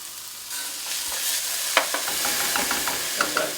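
Ingredients for a green rice dish fry slowly over low heat in a pan, a gentle sizzle broken by a few sharper spatters and stirring scrapes.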